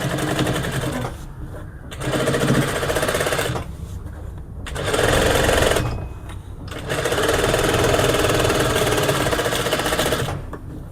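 Sewing machine stitching the side seam of a bag lining, running in steady close-up bursts of rapid mechanical whirring with several brief pauses between runs.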